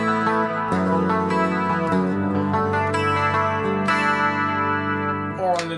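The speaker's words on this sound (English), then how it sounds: "On my guitar I selected now the middle pickup, so it takes both humbuckers," An electric guitar on its middle pickup setting, combining both humbuckers, runs through a Fractal Axe FX with distortion, chorus and echo. It plays sustained, layered chords and notes continuously at a steady, loud level, with a brief change in attack near the end.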